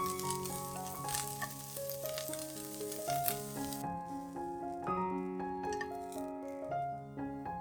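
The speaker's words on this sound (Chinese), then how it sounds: "红萝卜一样，放入锅里煎至稍微有点熟后" Carrots fry in a pan with a soft, continuous sizzle and occasional stirring, heard faintly beneath a melodic music track.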